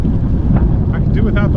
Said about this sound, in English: I could do without the wind.